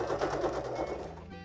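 A Singer Start 1306 sewing machine stitches thick stretch knit fabric with a three-step zigzag stitch: a fast, even mechanical chatter running close and steady, then slowing to a stop.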